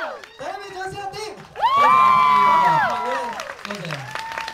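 A live concert crowd breaks into applause and cheering with whoops after a singer speaks, then the noise fades while a voice talks over it.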